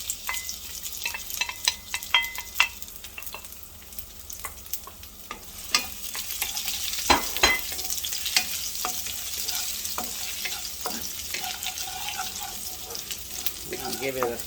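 Garlic and ginger fry in very hot oil for lo mein, a steady close sizzle with scattered crackles and a few sharp pops, stirred at times, no talk over it.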